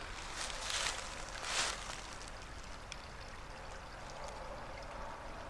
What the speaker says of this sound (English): here's the little spring that comes down to feed that pond